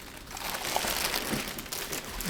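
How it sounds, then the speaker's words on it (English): Plastic wrapping is pulled off a tactical rifle bag, producing loud, continuous close crinkling and rustling with no break. "We just need to take the plastic off."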